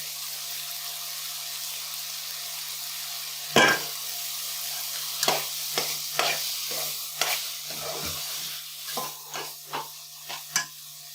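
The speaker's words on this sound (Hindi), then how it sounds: "अब मज़ीद 5 मिनट के लिए इसको फ्राई करेंगे।" Ground chicken keema with onions frying in a pan, steady sizzle under repeated sharp scraping clacks of a spoon stirring, about a dozen strokes in an irregular rhythm, close and clear with no talking.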